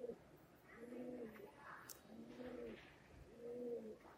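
Pallar pigeons in a coop coo three times in a slow, even rhythm, each coo a soft, low, rolling call, faint against quiet background noise.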